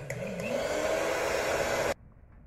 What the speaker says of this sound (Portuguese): Dar uma batidinha aqui com a batedeira.